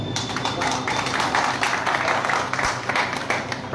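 An audience at a public address applauds in a steady burst of dense clapping that rises and falls briefly but never stops.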